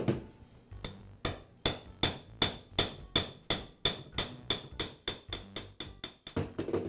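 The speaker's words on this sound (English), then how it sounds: "I'll use a punch inside the hole on the end of the armature shaft to tap the" A hammer strikes a metal punch to tap a DeWALT grinder armature out of its bearing while the grinder is held in a vise, giving about fifteen sharp, evenly spaced metallic taps, close and clear, with no talking.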